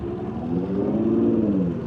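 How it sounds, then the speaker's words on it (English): A Nissan GT-R rolls up alongside at highway speed, its engine note rising in a smooth, steady whir over constant road and wind rumble heard from a moving motorcycle. "Got a nice Nissan GTR rolling up on the right over here."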